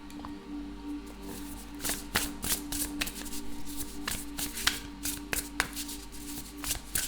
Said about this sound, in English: I want to pull a couple of cards from my deck.